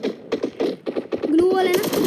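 In the Free Fire mobile game, an AR gun and a shotgun fire rapid, evenly spaced shots in a close, punchy burst. A voice rises over the gunfire near the end.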